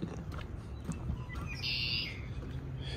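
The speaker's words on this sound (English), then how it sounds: "They're birds." Faint bird calls, including a low owl-like hoot, come through a steady outdoor rumble, with a brief higher chirping burst midway.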